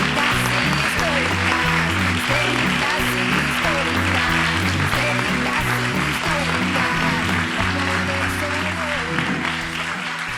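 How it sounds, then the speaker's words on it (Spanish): Studio audience applause welcoming two guests on a talk show in Oleiros, steady and loud under continuous music, with no clear gaps throughout. "Un aplauso moi forte para elas."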